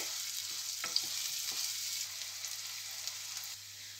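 Onions frying in a pan for bhindi sabzi give a steady, fairly quiet sizzle, with a few light stirring taps early on and no speech.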